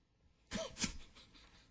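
A single sharp sneeze during a city council meeting, close and fairly loud, rising from near silence and followed by a faint tail of room tone.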